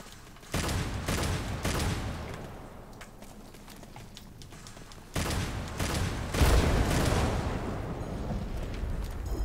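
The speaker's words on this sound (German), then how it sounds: "Explosion." Explosions and heavy gunfire from the video game Devil May Cry 5 come as loud, booming bursts with deep rumbling tails, two main blasts followed by sustained crackling fire.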